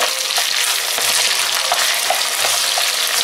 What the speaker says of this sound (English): I'm going to get myself a plastic spoon so I don't scratch the bottom of my pot. And we'll flip that beef around.